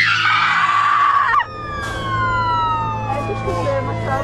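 An ambulance siren wails loudly and close at the start, its pitch sweeping down abruptly around the midpoint as the vehicle passes, then continuing as a lower, steady wail over a constant engine rumble.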